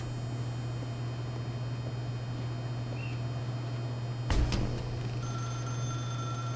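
A telephone rings in the video game Stanley Parable: Ultra Deluxe, a steady electronic ring over a constant low hum and background noise, with a brief louder clatter partway through and no talking.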